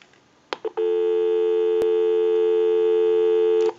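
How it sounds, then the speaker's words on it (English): A couple of clicks, then a steady, loud dial tone from a Northern Electric Ericofon telephone hums continuously for about three seconds before cutting off. "We'll go ahead and give you some dial tone"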